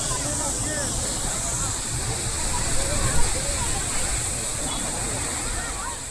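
Water gushing from a burst Veeranam pipeline by a roadside, a loud steady rushing roar like a waterfall that carries on without a break, close by, with voices under it.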